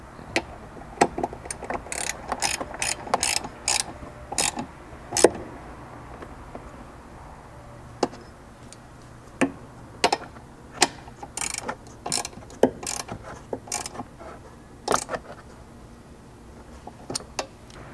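Ratchet clicking while tightening the hardware of an overhead MOLLE panel in a Ford Bronco, close and crisp, coming in bursts of rapid clicks separated by short pauses, with no talking.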